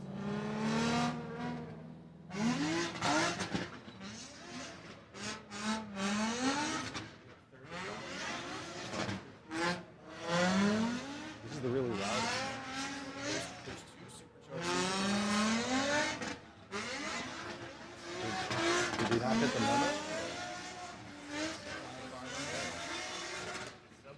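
A modified car revs hard and squeals its tires, loud and continuous with rising and falling engine sweeps, while people talk over it throughout.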